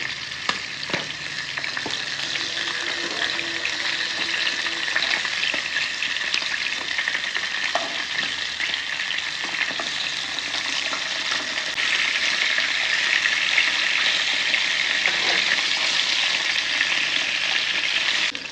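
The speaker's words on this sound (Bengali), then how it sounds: "দেখুন আমি মাছটা ভাজতেছি কীভাবে" Salt-and-turmeric-coated fish frying in a wok after being flipped gives a steady, close, bright sizzle that runs unbroken for the whole stretch, swelling slightly louder toward the end, with no talking.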